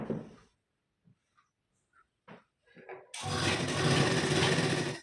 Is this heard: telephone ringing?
no